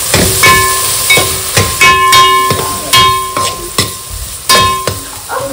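Masala for a vegetable biryani being mixed in a frying pan: a steady close sizzle broken by repeated spatula scrapes and knocks against the pan, about one every half second to a second.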